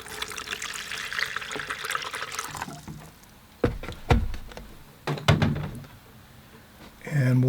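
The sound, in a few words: fresh water poured into a large collapsible container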